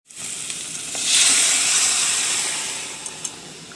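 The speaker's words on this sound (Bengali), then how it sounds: "একটু পাঁচফোড়ন আর একটা শুকনো লঙ্কা ফোড়ন দিয়ে দিতে হবে" Panch phoron and a dried red chilli sizzling in hot oil for a masoor dal tempering, a loud, close, continuous frying hiss that swells after a second and slowly eases, with a couple of faint utensil taps.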